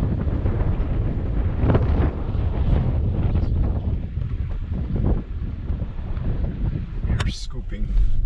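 Wind buffets the microphone through an open car window while a four-wheel-drive vehicle drives slowly along a rough track near Playa Sucia, Puerto Rico. The gusting is loud and steady, and people talk beneath it.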